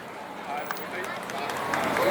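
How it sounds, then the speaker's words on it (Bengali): A crowd at a Baisakhi adda gathering keeps applauding a singer, the clapping a steady wash that grows slightly louder under a host's voice. "নয়নিকার জন্য একটা জোরে হাততালি হয়ে যাক,"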